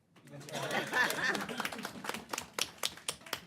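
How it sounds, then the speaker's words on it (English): Clapping from a state education meeting audience, starting as a brief patter and thinning to a few scattered, sharp claps near the end. "Y'all clap."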